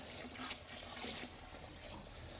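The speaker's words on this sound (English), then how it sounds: "dig a little hole there to pour the water in" Water trickles steadily into a small hole in dry fast-setting concrete mix, a faint continuous pour with slight splashy pulses and no talking.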